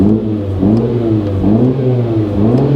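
A 2020 Mini Cooper S engine idles right after a pushbutton start, a close, steady low rumble with a gently wavering drone and no voices.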